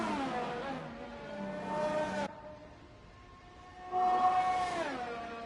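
An F1 car on a hot lap around Singapore in a racing video game screams through its gears, the engine note rising, cutting off sharply, then climbing again with a fresh high-pitched rev.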